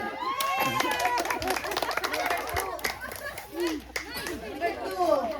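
A small group claps during a birthday party game, the scattered claps mixed with lively chatter, cheering and overlapping voices close by.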